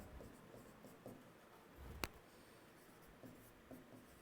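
Chalk or marker writing on a board during a physical chemistry lecture: faint scratchy strokes in irregular short bursts, with one sharp tap partway through, quiet room with no talking.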